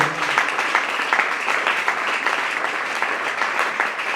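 A crowd claps steadily in a rapid, even patter, moderately loud, with faint voices mixed into the applause.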